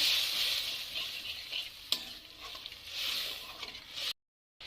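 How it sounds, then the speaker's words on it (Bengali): Okra roast masala sizzles and fries in a pan after spice water is added, a steady close hiss with stirring scrapes and one sharp clatter, then cutting off abruptly near the end. "এবার ভালোভাবে কষিয়ে নেব।"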